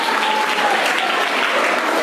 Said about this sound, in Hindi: रुद्राक्षी के लिए ताली बजा दें